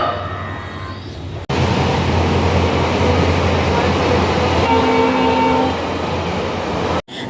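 Train noise at a railway station in Bolpur, a steady low rumble and broad hiss that runs continuously at close range, with a brief tonal hum midway and a short break near the end.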